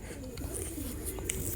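Pakistani teddy pigeons, an imported running pair, coo softly and continuously in a low, steady murmur, with faint rustling and occasional brief higher sounds nearby.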